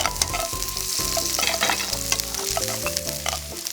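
Garlic and onion stir-fry in a hot pan for a crab spaghetti, giving a continuous close, loud sizzle with scraping stirs throughout and no talking.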